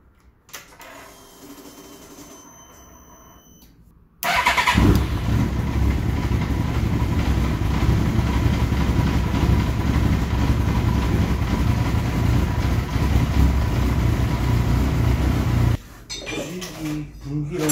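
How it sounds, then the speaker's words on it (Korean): An old vehicle's engine, just back together after parts were replaced, cranks and catches abruptly on its first start, then settles into a loud, rough, steady idle for about eleven seconds before the level suddenly drops. "떨리는 첫 시동입니다"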